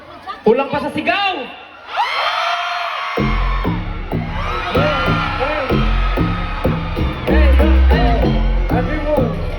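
At the Aurora Music Fest in Cebu, a concert crowd screams and cheers loudly, with shouted voices over pounding beats and music, the yelling rising and falling throughout.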